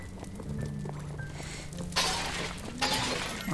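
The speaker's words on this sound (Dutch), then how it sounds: "Potten kapot slaan in huizen." Clay pots smashing inside houses in the Minecraft Dungeons video game, two sharp shattering crashes about a second apart, fairly loud over a steady game-music bed.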